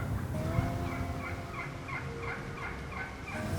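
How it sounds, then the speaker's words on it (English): A wild turkey gobbler gobbles repeatedly in a field during a fall hunt in Ohio, the rapid rattling calls arriving in quick bursts at moderate distance over steady outdoor background noise. "It definitely is a gobbler."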